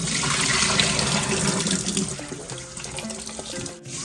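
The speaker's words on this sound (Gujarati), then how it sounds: "બાઉલમાં બટાકા લઈ લીધા છે અને એને ચોખ્ખા પાણીએ ધોઈ દઈશું" Water runs from a tap as potatoes are rinsed in a bowl of clean water, a steady, fairly close splashing with some clinking as the bowl is handled.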